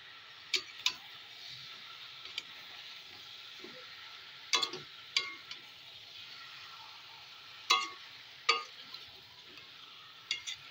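Chicken frying in a pan with red chili powder and a splash of water gives a soft, steady sizzle, broken by scattered sharp clinks and scrapes of stirring.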